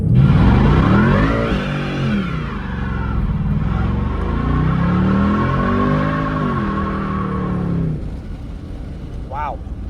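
A 2024 Ford Mustang GT V8 revs hard during a line lock burnout, the engine roaring loud and close, swelling and easing in repeated sweeps, before dropping off near the end.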